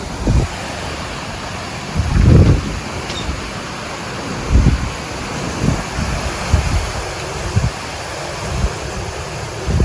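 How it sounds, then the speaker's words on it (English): Strong gusts from a severe thunderstorm buffet the microphone outdoors, a constant roar broken by several louder low-pitched whooshes spread through the clip. "No rain yet, but we got some bad winds right here."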